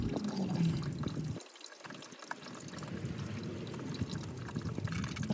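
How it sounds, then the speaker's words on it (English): Antifreeze draining from a 2009 Nissan Altima 2.5L, a steady nearby rush of liquid pouring out that dips briefly, then continues as a constant splashing flow. "Alright, so we'll drain the antifreeze."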